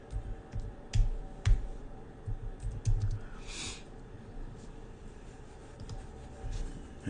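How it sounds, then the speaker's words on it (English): Someone types on a computer keyboard in short irregular bursts of soft clicks and taps, close and fairly quiet, with brief pauses between keystrokes. "Let me just type Zephaniah in."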